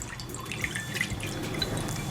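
Water splashes and trickles steadily into a bowl, a close, continuous liquid sound with small drips.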